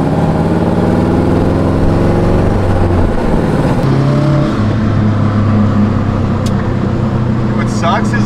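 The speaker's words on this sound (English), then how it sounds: "All right, so now we're riding in the whip." Steady engine drone heard from inside a moving 326power-styled Subaru that has a leaking up-pipe, a continuous mid-pitched hum with slight rises in revs throughout and no talking.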